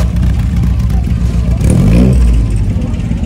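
Vintage car engine revving at a classic car gathering, a loud, continuous throaty exhaust rumble that swells midway before easing back, with crowd noise and voices in the background.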